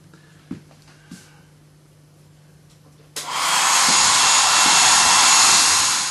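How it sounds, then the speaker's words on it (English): A couple of soft knocks in a quiet room, then a hair dryer switches on and blows steadily and loudly to the end, drying a watercolour painting. "you can also use a hairdryer."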